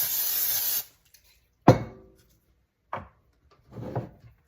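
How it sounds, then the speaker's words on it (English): A short hiss of non-stick cooking spray opens the clip, followed by a few dull clunks and knocks nearby. "Spray the bottom with some non-stick cooking spray."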